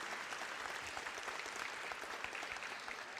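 Steady applause from an audience at an 8th grade recognition ceremony for students and teachers, a dense continuous patter of clapping heard at a modest distance.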